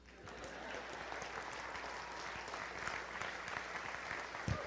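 Sustained applause from an audience, a dense wash of clapping that holds steady throughout, with a louder clap or two at the very end.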